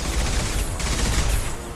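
Gunfire in the video game Mass Effect 2 crackles as a dense, continuous burst of shots over a rumbling battle din, loud and close for under two seconds.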